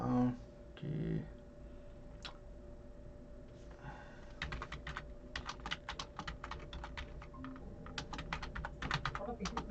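Rapid keystrokes on a computer keyboard come in close, uneven bursts while entering text in a graphic design program, with brief speech near the start and otherwise clear, steady clicking.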